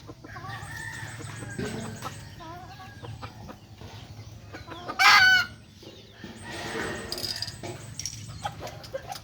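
Gamecocks and chickens cluck busily at feeding time, a steady stream of clucks and short calls with one louder, sharper squawk burst partway through, close by and without talk.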